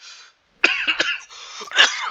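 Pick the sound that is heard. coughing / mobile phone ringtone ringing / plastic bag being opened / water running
coughing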